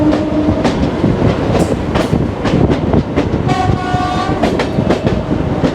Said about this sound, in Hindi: कोई हमसफ़र एक्सप्रेस हमें क्रॉस हो रही है।